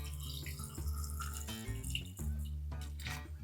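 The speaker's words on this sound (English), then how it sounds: "I'm going to put just enough water in there to boil" Steady running water pouring from a tap into a pot, about a quart, continuous and close, with no voices.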